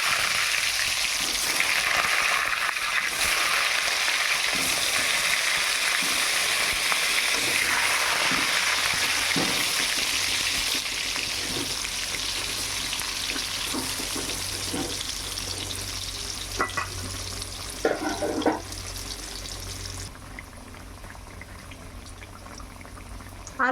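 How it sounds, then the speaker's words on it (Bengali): Potato pieces fry in the oil left over from the onions for mutton biryani, giving a loud continuous sizzling hiss that gradually eases, with scattered pops and stirring scrapes toward the end. "এইবার আমি ওই তেলে আলুটা ভেজে নেব।"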